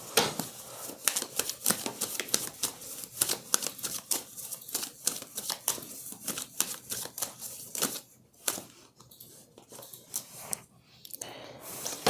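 Tarot cards are riffled and shuffled close up, with a rapid series of crisp snapping flicks and papery slaps, then quieter card handling and drawing toward the end.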